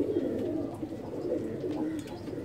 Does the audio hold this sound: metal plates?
no